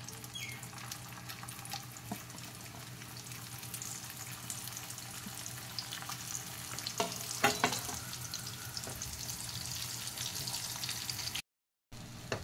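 Spicy puris deep-frying in hot oil give a steady, dense sizzle with a few louder crackles and spoon scrapes near the middle, continuous and close, cutting out briefly near the end.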